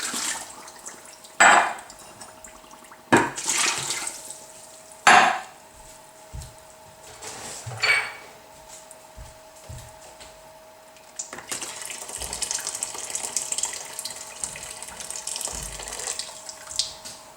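Boiling water poured into a vessel of crushed blackberries and sugar for blackberry wine, a steady splashing pour that swells and continues, with a few sharp clunks and knocks near the start.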